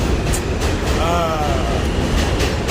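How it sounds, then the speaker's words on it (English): A train pulls away with a heavy, constant rumble and a brief high wheel squeal rising and fading midway, loud and close throughout. "Damn, I just missed the fucking train."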